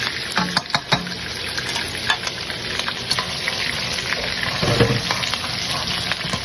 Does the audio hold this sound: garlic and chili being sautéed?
yes